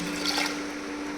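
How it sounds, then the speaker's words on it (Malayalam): Water poured from a vessel onto sprouted beans makes a steady, close trickle that runs throughout, over a constant low electrical hum. "കുറച്ച് വെള്ളം ഒഴിക്കുക."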